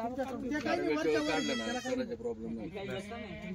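Goats bleat loudly and repeatedly, wavering cries close by, with people talking in the background.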